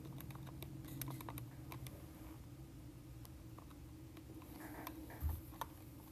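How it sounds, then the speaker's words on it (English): Quick keypresses being typed into a calculator while working out a simple price-markup sum, a scattered run of light clicks and taps at close range with no talking. "We type that into the calculator"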